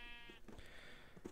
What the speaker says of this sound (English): I have a view of my sheep and cows